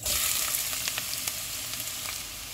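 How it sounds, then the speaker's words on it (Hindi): Onions sizzling and frying in hot oil in a pan while dal makhani is cooked, a close, steady crackling hiss with small pops throughout and no talk. "ऑयल गर्म हो गया, इसमें प्याज डालेंगे"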